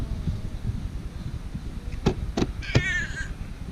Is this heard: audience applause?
no